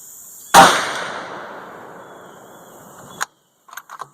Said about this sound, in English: Shoot 2 more and go look.